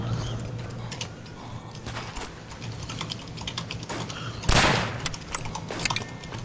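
Grenades explode during a competitive video game match amid rapid, clattering gunfire, with one loud, dense blast standing out midway.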